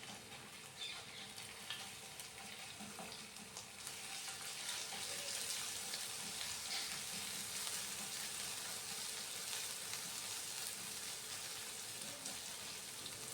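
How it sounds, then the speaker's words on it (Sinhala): Garlic and ginger frying in a few spoons of oil in a pan: a steady, fairly quiet sizzle that grows fuller after a few seconds and continues evenly, with no talking. "මුලින්ම සුදු ලුණු ඉඟුරු දාගන්න ඕන."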